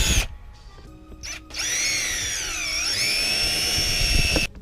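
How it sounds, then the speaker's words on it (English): A power drill drives screws into a Terminator Cobra front bumper on a New Edge Mustang GT, whining loudly and steadily for about three seconds, its pitch sagging midway as the motor loads up, after a few short bursts. "we just use the screws to drill them each in their the according hole that it's lined up with"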